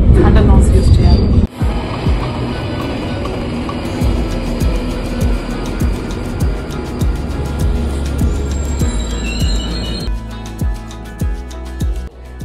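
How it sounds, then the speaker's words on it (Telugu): A London Underground train races through a tunnel with a loud, dense roar and repeated sharp rail clicks, while a person talks over the din. "వింటున్నారుగా ఎంత సౌండ్ వస్తుందో. మ్యాక్సిమం అండర్ గ్రౌండ్ ట్రావెల్ అంతా టనల్స్లోనే ఉంటుంది."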